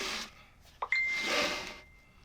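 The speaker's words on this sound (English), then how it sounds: "Sorry, my phone's going off here." A mobile phone notification chime rings out in a workshop during a guitar build, a bright sustained tone lasting about a second, fairly clear against quiet room noise.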